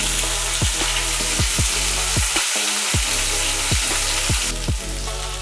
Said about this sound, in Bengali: আলুটা আমার ভাজা ভাজা হয়েই এসছে